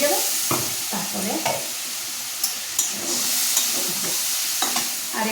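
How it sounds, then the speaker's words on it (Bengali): Spices frying in hot oil in a pan, a continuous bright sizzle with periodic scraping clicks of a spoon stirring them around, close and fairly loud. "মশলা ভালো করে ভাজা হলে তেল বেরিয়ে যাবে"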